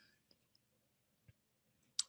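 A computer mouse gives a few sharp, quiet clicks at irregular intervals, with the last click louder, against near silence.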